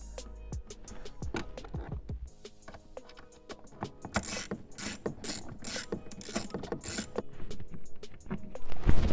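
Torx T15 screws are driven into the cabin filter housing of a BMW F10 M5, giving close, irregular ratcheting clicks and scraping mechanical taps that grow busier and louder toward the end.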